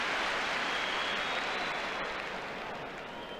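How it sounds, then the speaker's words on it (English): Stadium crowd at a Rangers versus Hearts football match applauding a player, a broad, steady wash of clapping and crowd noise that fades slightly toward the end. "Albert's getting a huge round of applause there."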